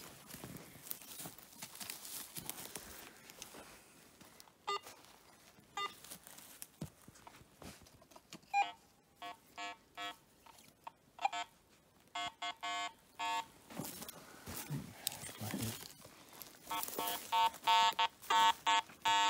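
A metal detector hunting for gold in the Victorian goldfields of Australia emits short electronic beeps in repeated bursts, sparse at first and then quicker and more frequent, over soft rustling of the sweep across the ground.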